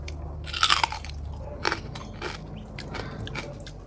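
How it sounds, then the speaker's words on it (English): Teeth bite into crunchy roasted porchetta pork belly crackling, cooked on a charcoal rotisserie barbecue, producing a loud close crunch followed by several quieter crackly chewing bursts with no talking. "let's take a bite of this porchetta"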